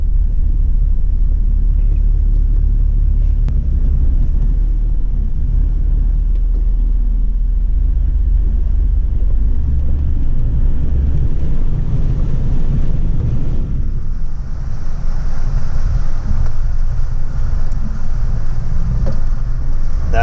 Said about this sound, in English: Okay, first river crossing.